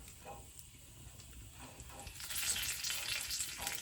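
Curry leaves sizzle and crackle in hot oil in a clay pot, a soft close-up frying hiss that grows louder and brighter toward the end.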